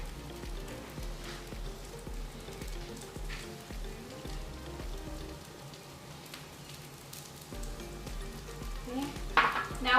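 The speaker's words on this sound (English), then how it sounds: "See how you're starting to hear them kind of start making that little sizzling sound?" Birria quesa tacos sizzling in a hot pan, a steady close crackle and fry hiss with small pops, alone the whole time and flaring louder near the end.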